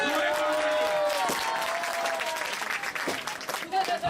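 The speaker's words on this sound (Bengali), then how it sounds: "করতালি অভিনন্দন জানাই।" Applause from a local community gathering at the opening of a councillor candidate's election office, a crowd clapping steadily for about four seconds, with voices mixed in.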